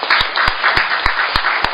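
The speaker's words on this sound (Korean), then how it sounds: "모두 박수로 환영해 주시기 바랍니다." A seminar audience claps to welcome a discussant at a Korean academic presentation on registering comfort-women records as world documentary heritage. The applause is moderate and even, with a few sharp, close individual claps standing out.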